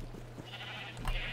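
Sheep bleat faintly in the Minecraft video game. The short, distant calls sit over a steady low hum.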